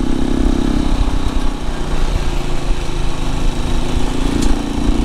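A Halcyon 450 motorcycle engine works steadily as it climbs a Rocky Mountain trail, a loud, continuous droning hum with slight rises in pitch and no talk over it.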